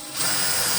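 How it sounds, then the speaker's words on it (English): A power drill boring a pair of 4mm holes while an LED cube kit is assembled: a steady, close whine that starts up abruptly and holds loud and even for under a second, with no talk. "And I'm going to drill"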